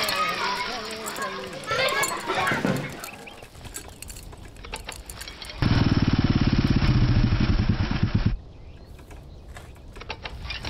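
A motorcycle engine in an Indian film scene rumbles loudly up close for a few seconds, preceded by children's chatter and voices, with street noise around it.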